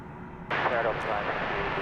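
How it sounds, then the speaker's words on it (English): An Airbus A319 jet airliner at DFW airport: a faint, low rumble that swells abruptly into a broad jet roar and holds for about a second. "It's an Airbus A319 going to El Paso."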